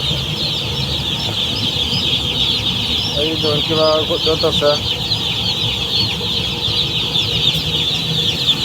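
Chickens newly brought into a poultry shed cluck and chirp in a busy flock over a steady background whir, with a brief burst of louder calls midway and someone talking nearby.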